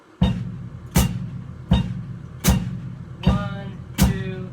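A drum kit's feet pattern played alone at 80 bpm: six evenly spaced, punchy kick and hi-hat hits with short decays, close and clear.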